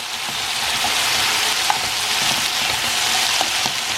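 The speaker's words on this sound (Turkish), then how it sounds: "Tavukları kendi yanımda kızartıyorum bu arada." Chicken sizzles and spatters steadily in a hot pan, a continuous frying hiss with a few small pops.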